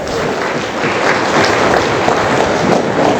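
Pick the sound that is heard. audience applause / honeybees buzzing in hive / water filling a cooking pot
audience applause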